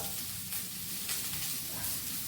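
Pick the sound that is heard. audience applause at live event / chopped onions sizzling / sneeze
chopped onions sizzling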